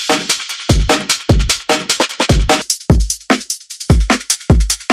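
New and old AI-generated drum stems in Suno Studio play back to back, a loud, punchy beat of repeated deep kick hits and bright snare and cymbal strikes in a steady rhythm, with no voices.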